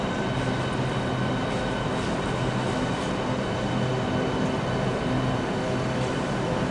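A Southeastern train at Stratford International on HS1 in the game Train Sim World 3, a steady loud rumbling drone with constant broadband noise throughout and no voices.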